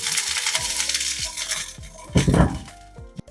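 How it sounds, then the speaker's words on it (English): Peppers sautéing in olive oil in a heated skillet give a steady, close hiss of sizzling, broken by a few sharp metallic clacks of a utensil against the pan. No one speaks. "to our heated skillet, we're going to add a little bit of olive oil"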